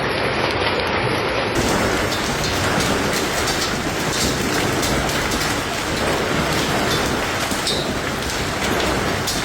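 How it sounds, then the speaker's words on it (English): Heavy hail pelting yards, balconies and roads during a hailstorm in the Brescia and Verona area of Italy, a dense, steady roar of impacts that never lets up, with no voices. "Circulating footage showed hail falling quite heavily on yards, balconies, and roads."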